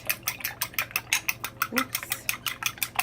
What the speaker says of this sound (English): I'm going to mix the eggs